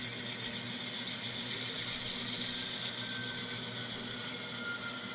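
A locomotive engine idles in a rail yard, producing a faint, steady mechanical hum with a rattling, gear-like texture and no talking.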